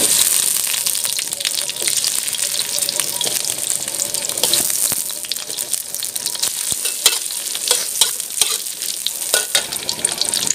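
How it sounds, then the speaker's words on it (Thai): Rice stir-fries in oil and butter in a hot pan, a loud continuous sizzle with busy scraping and tossing from the spatula, close and unbroken, no talking. "พี่ปูจะใส่เนยไปนะคะเพิ่มความหอมเวลาเราผัดข้าวนะคะ"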